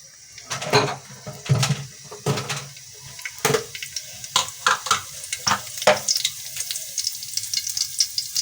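Whole cumin seeds sizzle and crackle in a full pour of hot oil, with sharp stirring scrapes and clatters in uneven bursts close by, ahead of a vegetarian Bengali village dish of malabar spinach, jackfruit seeds and pumpkin.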